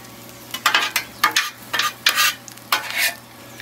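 Vegetables are turned and scraped with hash browns on a Blackstone griddle, with about seven sharp bursts of spatula scraping over a low sizzle, close and loud, no voices.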